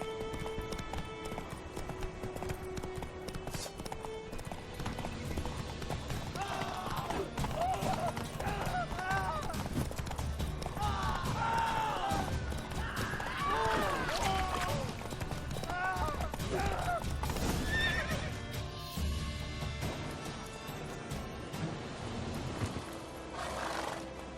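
A horse gallops and neighs in the Witcher 3: Wild Hunt video game, rapid clip-clop hoofbeats with repeated whinnies under music and game ambience, with voices talking at times.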